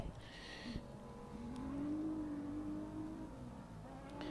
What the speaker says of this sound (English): Sounds spectacular, that car. Or off-roader, buggy.